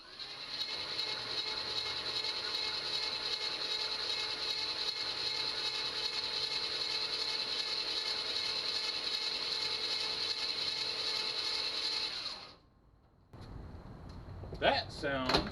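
Starter cranking the engine of a 1985 Chevy C10 short-bed pickup, a steady, whirring mechanical churn lasting about twelve seconds before cutting off, followed by brief quiet and then a voice speaking.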